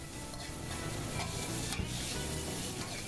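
Frog legs fry in a pan alongside chilies and rough-chopped green onion, a close, dense sizzle with a few faint scraping touches running through it and no one talking.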